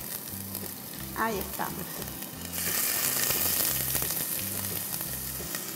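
Finely chopped onion frying in neutral oil in a pan for a chicken soup, starting as a moderate sizzle, then jumping to a louder, brighter crackle midway after a short spoken comment.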